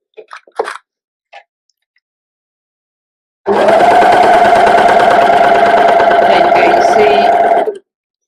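Sewing machine, likely a serger, stitching and trimming fabric with a 5/8-inch seam on the left needle, a loud rapid mechanical whir that starts abruptly and runs steadily for about four seconds after a few faint handling noises.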